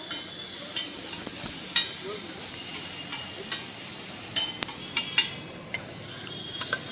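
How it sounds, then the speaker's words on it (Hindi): Chicken frying in butter on a hot pan at a Patna street food stall, a steady sizzle and hiss with light stirring scrapes and occasional clinks, continuous and close. "तो बटर में सबसे पहले चिकन को किया जाएगा फ्राई, हल्का तड़का जैसा लगाया जाएगा बटर में डाल के"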